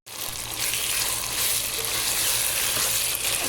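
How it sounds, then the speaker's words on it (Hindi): Chicken karahi with cream sizzling and frying steadily in a pan, a loud continuous hiss with a low hum underneath, no talking. "अच्छे से इसकी भुनाई कर लेंगे।"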